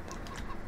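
A brief burst of soft chicken clucking from the Farming Simulator 15 video game, quiet and low over a dense background hum.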